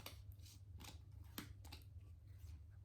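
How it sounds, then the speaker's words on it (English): Tarot cards are pulled and laid into piles, making quick close swishes and soft slaps in an uneven rhythm over a low hum. "So I'm going to start pulling the cards."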